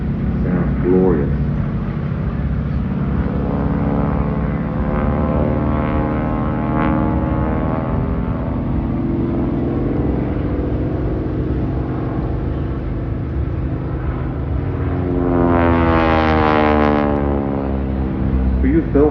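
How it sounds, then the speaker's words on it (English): A Harvard aircraft with a Pratt & Whitney radial engine flies past at an air show, its droning engine tone sliding in pitch as it passes, with a second rise as it returns overhead; people talk over it. "when it's flying away from you, you get the sound of that beautiful Pratt & Whitney radial engine"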